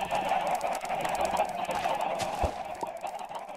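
Chickens clucking in the video game Minecraft, a steady chorus of soft overlapping clucks with a few sharper thumps, heard without talk.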